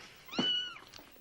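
A single cat meow, close and clear, rising then falling over about half a second, followed by quiet.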